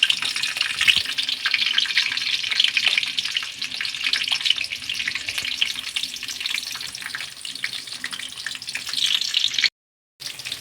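Masala for matar paneer fries and is stirred in a pan, a steady bright sizzle with occasional scraping that runs almost unbroken before a brief drop to silence near the end.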